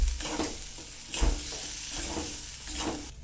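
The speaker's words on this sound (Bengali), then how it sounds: "আমি তেলের সাথে ভালো করে মটরশুঁটি পেস্টটাকে নাড়াচাড়া করে নিচ্ছি" Green pea paste fries in oil as it is stirred in a pan, a steady close sizzle broken by repeated scraping strokes of the spoon at an uneven rhythm, with no voices.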